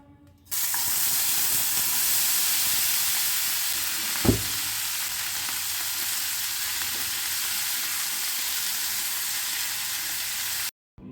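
Spring onions fry in a pan with a constant close sizzle that starts abruptly, holds steady for about ten seconds with one brief knock partway through, and then cuts off.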